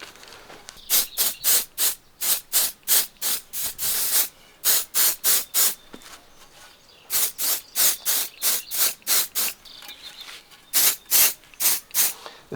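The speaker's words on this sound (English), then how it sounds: "So we need to spray this with some of this mold release." Mold release sprayed from an aerosol can onto a homemade longbow's tenon, in rapid rhythmic bursts of sharp hissing, each short puff separated by brief pauses, grouped in several runs, close and loud.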